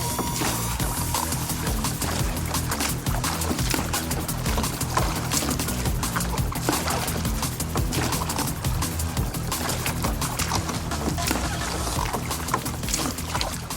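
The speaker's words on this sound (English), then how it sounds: "On my call, both boats start rowing." Continuous rushing water and splashing of oars from rowing boats, dense and steady throughout, with faint knocking; no clear speech.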